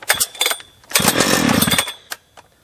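A Husqvarna 3120XP chainsaw, ported with an ignition upgrade, started cold on choke: a few short pull bursts, then a loud, near engine roar for about a second before it dies out, with a brief final sputter.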